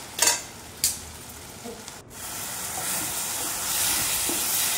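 Tomatoes cook in a pan, giving a steady hiss of sizzling that grows slightly stronger. A couple of short stirring knocks come near the start.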